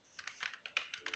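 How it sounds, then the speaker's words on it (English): Quick, light keystrokes on a computer keyboard, about a dozen close soft clicks in an uneven run, heard alone with no talking. "I need to type in my"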